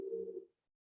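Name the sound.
birds in meditation music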